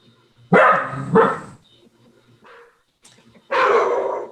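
A dog barks close by, two loud barks in quick succession and then a third after a pause, heard during a municipal arts commission meeting held online.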